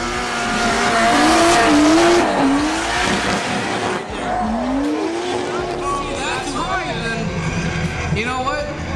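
Drift cars at a drift finals event sliding at steep angle in heavy smoke, with loud wavering tire squeal and engine roar close by, while an announcer talks over it throughout.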